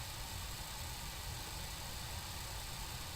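Honda motorcycle engine running on a touring ride through hilly western Sumatra, a steady dense rumble mixed with wind roar, continuous and even with no voices.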